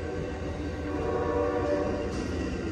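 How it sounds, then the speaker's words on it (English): Amtrak Coast Starlight train with a P42DC locomotive sounding its horn at Oakland's Jack London Square, a steady sustained horn tone blending with rail rumble, loud and continuous throughout, with no talking. "He just did a happy birthday horn show."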